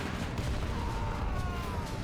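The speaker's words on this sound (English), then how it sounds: "Bazooka shot on the whirlwind" Bazooka fire and an explosion in the war strategy game Men of War 2, a dense rumbling blast with crackling battle noise behind it, loud and continuous.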